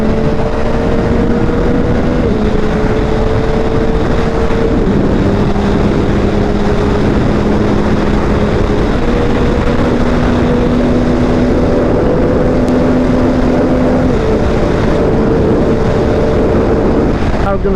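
Yamaha R9 motorcycle engine pulling hard on a bumpy mountain touge road, a steady droning tone that steps up in pitch through the gears, heavily buried under loud helmet wind roar throughout.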